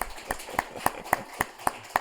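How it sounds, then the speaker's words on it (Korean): A church congregation at a Sunday service meeting gives a short round of rhythmic clapping in unison: seven or eight crisp, evenly spaced claps, fairly soft and heard without talk over them. "박수로 모시도록 할게요"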